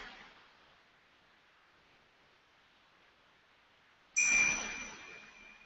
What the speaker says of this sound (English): And listening to the bell